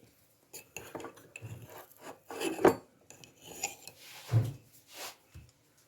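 A small spoon scraping and scooping golden paste from a jar while preparing dog food, soft intermittent clinks and rubbing scrapes, close and quiet.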